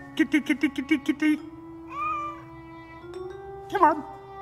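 Series of rapid, close meows in a quick rhythmic burst, then a drawn-out mew and a final louder cry from a cat, with no talking.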